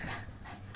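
A dog pants close up in quick, steady breaths that run throughout the short stretch, with no one speaking.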